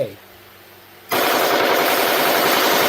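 AK rifle fired with the trigger held back: after a second of quiet, a loud, sustained full-auto burst roars continuously to the end, dense and close.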